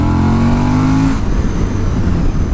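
Suzuki V-Strom motorcycle engine pulling hard at full throttle, a loud rising drone with climbing harmonics for about a second, then settling into a steady close roar.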